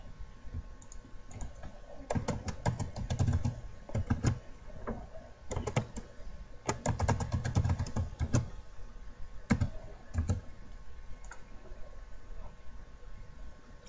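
Typing on a computer keyboard to log in, quiet, close clicking keystrokes in rapid bursts with brief pauses between, no talk.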